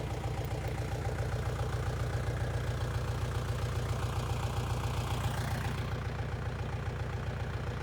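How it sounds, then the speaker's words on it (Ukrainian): A four-cylinder Lovol diesel tractor engine chugs steadily with a rhythmic low knocking throb while discing a cabbage field with a roller, loud and close, running continuously throughout. "Трактор Ловол, 4 циліндри. 4 колеса, одна кабіна. Лупить на всю."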